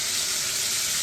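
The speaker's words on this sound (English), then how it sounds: "And I have these searing on a high." Pork chops searing in a very hot pan on high heat, a steady, loud, close hiss of sizzling fat with no break and no talk.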